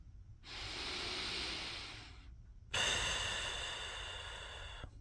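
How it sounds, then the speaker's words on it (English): Two long, heavy breaths up close, a deep slow inhale followed by a forceful, hissing exhale. "I sound like I'm breathing for natural childbirth."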